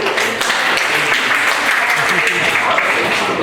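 Audience applause fills an after-prom hypnotist show, a dense, steady wash of clapping that stays loud from start to finish, with voices mixed in.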